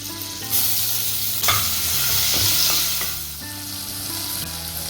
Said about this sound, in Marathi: आता इथे जो आपण वाटलेला ठेचा होता ना मिरचीचा तो घालून घ्यायचा आणि परतून घ्यायचं आपल्याला हे.